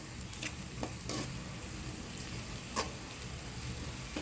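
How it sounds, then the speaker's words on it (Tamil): Crushed garlic and ginger sautéing with onions in a pan for a traditional chicken gravy, a soft steady sizzle with a few sharp scraping stirs. "அந்த தட்டி வச்சுருக்க பூண்டு, இஞ்சி இது ரெண்டுத்தையும் நம்ம இதோடு சேர்த்து வதக்கிக்கலாங்க"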